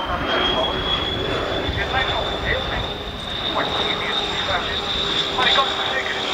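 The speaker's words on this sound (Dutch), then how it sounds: "Zo wordt er bij het demo-team de landing ingezet." Military demo-team aircraft on landing approach at an air force base during an air show, with a steady loud engine drone and high whine throughout, and voices talking over it.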